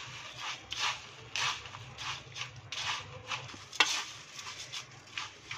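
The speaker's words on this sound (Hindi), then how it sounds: "अच्छे से मिक्स कर लेंगे।" Spiced puffed rice for Kolkata-style jhal muri being stirred and tossed by hand in a bowl, a steady run of soft, dry rustling scrapes in repeated strokes, close and moderately quiet, with no talking.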